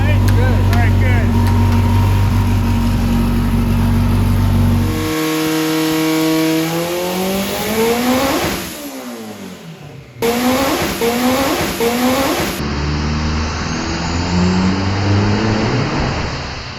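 A 1200hp turbocharged DSM car engine revs hard and repeatedly, climbing and falling in pitch with loud, close, sustained roaring and brief throttle lifts between pulls.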